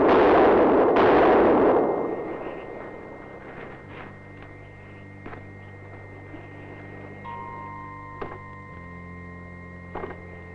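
Rifle fire at target dummies in a staged ambush reconstruction: two loud sharp shots at the start with a short echoing tail, then quieter clicks and a steady hum, without talking.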